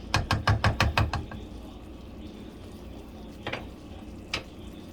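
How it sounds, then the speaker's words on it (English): Sausages for Cajun-style jambalaya dropped into a pot of cooked-down vegetables, a rapid run of loud thuds and clatters at the start, then a steady low sizzle with a couple of later knocks. "let's just go ahead and get these sausages going"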